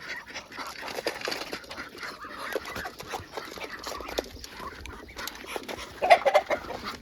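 Chickens cluck and squawk nearby in scattered bursts during morning feeding on a farm, with rustling and small movements around them and a louder flurry of clucks toward the end as they start fighting.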